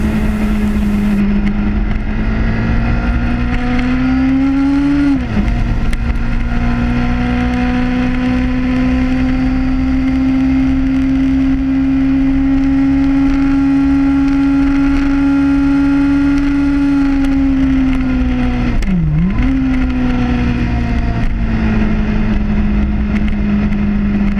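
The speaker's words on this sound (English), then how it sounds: "Sometimes I feel guilty as my bike roars by these residential homes" A motorcycle engine roars continuously as the bike rides past residential homes, heard loud and close from the rider's position with a steady drone and two brief dips where the pitch drops and climbs again.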